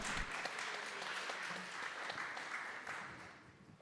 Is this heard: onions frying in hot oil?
no